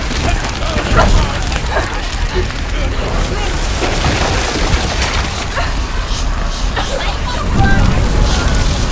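A dense, loud roar of fire in the game Hellblade: Senua's Sacrifice runs without a break, with rising surges near the start and end and urgent voices layered over it.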